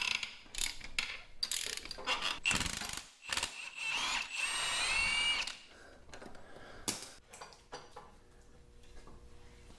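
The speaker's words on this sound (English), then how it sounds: "Chrome socket on an impact wrench" Impact wrench with a chrome socket in Deconstruction Simulator, heard as several sharp, rattling mechanical bursts with a whirring ratchet quality, loud and close, alternating with short pauses and quieter clanks.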